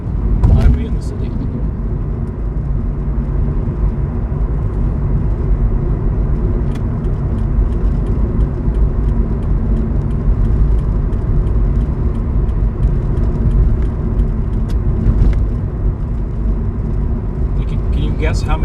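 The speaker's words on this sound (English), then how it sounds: "This is the busiest highway in the city." Traffic pours along a busy city highway and bridge in a continuous loud rumble and roar of engines and tires. Occasional vehicles pass closer and rise above the steady wash.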